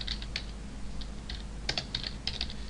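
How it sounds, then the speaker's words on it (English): Quiet, close keystrokes on a computer keyboard tap out code in short irregular clusters over a low steady hum, with no talking. "Let me make sure I type this right."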